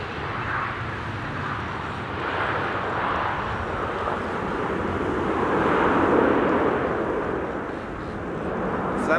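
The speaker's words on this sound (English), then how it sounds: "This is KLM Flight 696 arriving from Toronto in Canada. 777-200 the Papa Hotel Bravo Quebec Kilo." A KLM Boeing 777-200 widebody arriving at Amsterdam Schiphol Airport, a steady loud roar of jet engines that swells and eases slightly over several seconds, with no talking.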